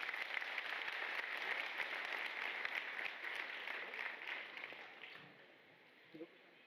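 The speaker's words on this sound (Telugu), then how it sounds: "కమిటీ సభ్యులకు, పెద్దలకు ఒకసారి గట్టిగా చప్పట్లతో" An audience at a spiritual discourse claps for the committee members and elders, a sustained round of applause that fades away toward the end, with a brief voice as it dies down.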